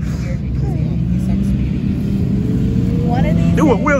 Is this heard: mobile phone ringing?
no